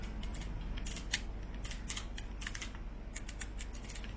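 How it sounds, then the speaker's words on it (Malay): Spool tension knob on an ATC Combat 101 fishing reel turned through its clicker, giving a steady run of small, close, dry ticks. "Spool tension knob dia ada clicker."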